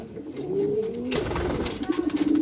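Racing pigeons in a Bangladeshi loft give soft, rolling coos, rising into a steady run of repeated throaty calls close by, with no talking.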